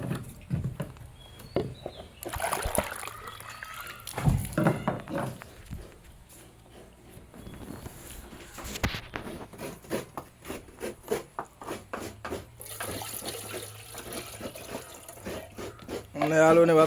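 Water is poured into a pot at home for tea, heard as quiet intermittent splashing and patter mixed with background noise, with people talking at times.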